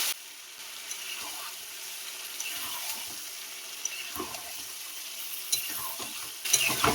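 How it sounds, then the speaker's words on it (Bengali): Fish sizzles steadily in hot oil in a kadai while a spatula scrapes and stirs it in uneven bursts, the frying hiss close and constant throughout. "মাছটা এবার কড়ার মধ্যে দিয়ে দেবো। দিয়ে ভালো করে আমি মাছটা নেড়ে নেবো।"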